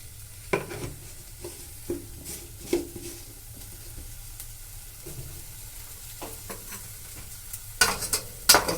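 A spatula stirs and scrapes sandwich filling in a pan after half a teaspoon of sugar goes in, with a series of close, distinct scraping strokes over a faint, steady sizzle and no talking.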